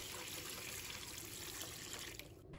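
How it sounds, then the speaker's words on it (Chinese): Clean water pours steadily into a basin of clams, a soft continuous splashing stream that trails off near the end, quiet and close without talk. "再倒入清水"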